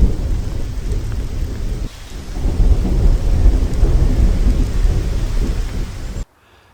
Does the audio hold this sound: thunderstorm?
yes